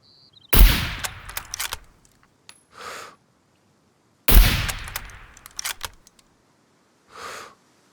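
Two loud rifle shots in the game Scum, about four seconds apart, each a sharp crack with a long rolling echo, followed by clicking handling noises and a short rustle.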